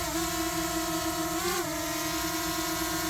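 Quadcopter drone motors hover nearby with a steady, loud whine of layered tones that bends briefly midway as the drone shifts, continuous and without talk.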